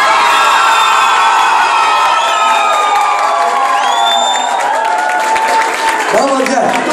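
Wedding guests in a hall burst into loud, sustained cheering, whooping and applause close by, with shouting voices over the crowd.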